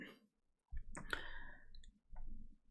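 A short command typed on a computer keyboard at a terminal, a few close, quiet key clicks in small bursts separated by brief pauses.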